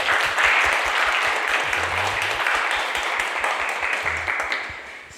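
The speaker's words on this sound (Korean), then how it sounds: "우리 박수로 환영하도록 하겠습니다." Church congregation applauding during a Sunday worship service to welcome visitors, a full, even round of clapping that stays strong and slowly fades, with a faint low voice or tone underneath.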